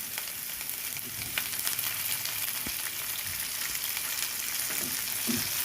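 Onions and chopped tomato frying for chicken Kolhapuri, a continuous loud sizzle and crackle with scattered pops and stirring clatter throughout.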